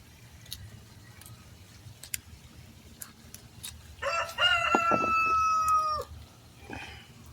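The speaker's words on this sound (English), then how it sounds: "That's my rooster saying hi to y'all." A backyard rooster crows once at moderate distance, one drawn-out call with a broken, rising start, over a quiet outdoor background with a few faint clicks before it and a short cluck after.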